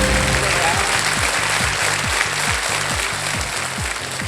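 Studio audience applause erupts for a correct answer on a televised quiz game show, loud, steady clapping throughout with a rhythmic musical beat underneath.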